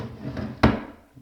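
A bathroom vanity drawer on freshly lubricated runners closes with a single soft thud near the middle, preceded by a faint sliding rustle, close and alone.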